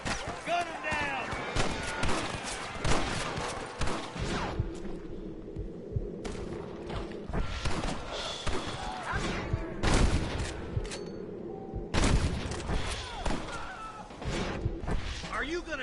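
Gunfire at a rustler guard in the Red Dead Redemption video game, sharp repeated shots in scattered clusters against a low hum, with speech and short silent gaps between bursts.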